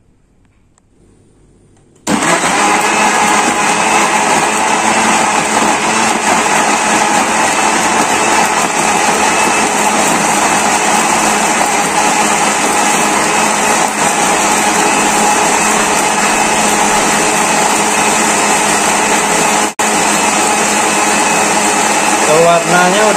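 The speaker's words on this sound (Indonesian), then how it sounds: "nanti saya blender menjadi satu semuanya" An electric blender whirs loudly at high speed, blending spices for grilled fish seasoning. The motor kicks in abruptly after a brief quiet moment and then runs as a steady, close, continuous drone that lasts to the end.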